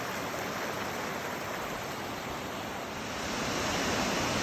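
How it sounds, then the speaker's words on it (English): Laurel Falls, a waterfall on a river in a canyon near Hampton, Tennessee, sends up a steady, full-band rushing roar, loud and unbroken throughout with no voices. "This is Laurel Falls near Hampton, Tennessee."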